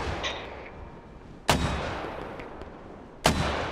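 Two sharp mortar impacts from a military shooter game land at a distance, each a sudden heavy crack with a rumbling tail, spaced well apart over quiet background noise.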